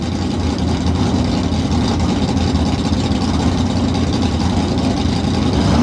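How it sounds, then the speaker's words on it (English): Tough truck engines idle steadily near the stage at an outdoor motorsport event in Indy, a loud, continuous low rumble with no talking over it. "You can hear the engines running up here by the stage where we are."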